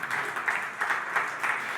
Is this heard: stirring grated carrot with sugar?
no